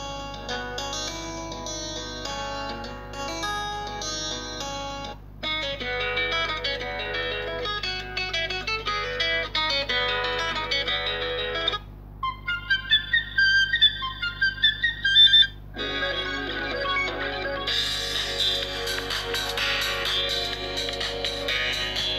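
A string of ringtones plays from the earpiece speaker of an Infinix Hot 9 Play phone, bright electronic melodies shifting tune several times with short gaps, one passage of plucked staccato notes, steady and alone with no talk.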